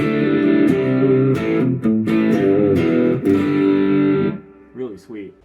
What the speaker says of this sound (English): this is what the amp sounds like without it